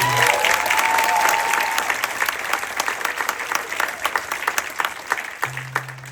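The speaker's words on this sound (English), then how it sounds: "give a big, wonderful round of applause to Auntie Jackie, Uncle George" A crowd at an island grill gathering with live music gives a warm round of applause for two guests, dense clapping that starts loud and gradually thins into scattered claps, with a sustained tone in the background.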